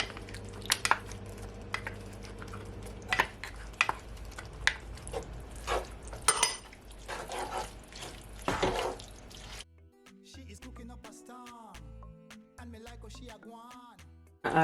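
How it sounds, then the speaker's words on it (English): Tomato puree is squeezed and dropped into ground beef for tacos in a pan, giving wet squelching plops and drips, then soft clatters and clicks. "I'm gonna add my tomato puree"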